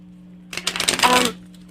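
A deck of tarot cards is riffle-shuffled once, a quick close-up burst of flapping and rustling that runs about a second over a quiet steady hum, with no talking.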